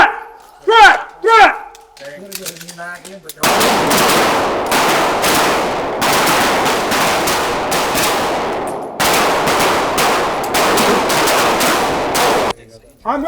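Pistol shots ring out during a malfunction-clearing drill, loud, close, sharp reports that follow a few brief spoken commands at the start.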